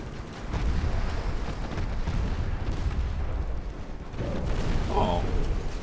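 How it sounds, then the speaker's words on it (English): Deep booming impacts and rumbling explosions as torpedoes strike a warship in Ultimate Admiral Dreadnoughts naval battle, a steady heavy roar with someone talking over it. "Torpedoes actually finishing a ship off like they're supposed to."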